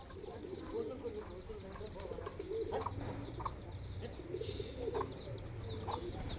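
White pigeons coo softly in low, repeated bursts among other birds at a village home, with quiet voices murmuring in the background.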